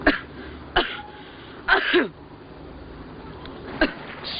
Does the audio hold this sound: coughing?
yes